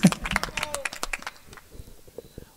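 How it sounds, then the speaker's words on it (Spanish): Scattered clapping from people celebrating band musician Jorge at a family party, a few sharp claps at first that thin out into sparse, quieter claps. "Un aplauso para amigo Jorge, compa Choco."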